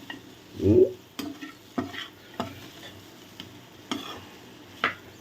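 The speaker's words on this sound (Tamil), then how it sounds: "இருங்க கிளறிட்டு காட்டுறேன்" Goat blood fry (ratha poriyal) being stirred in a pan, with soft sizzling and several distinct scraping clacks of the spoon spaced through the stretch, close and moderately loud, with no talking.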